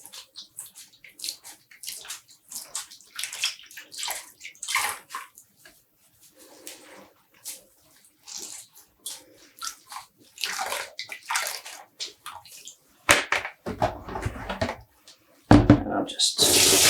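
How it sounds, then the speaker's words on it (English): Rinsed dyed yarn is wrung and squeezed by hand in a basin. Its water drips and splashes in short, uneven bursts, growing louder near the end as it is poured off. "And we're squeezing out the water."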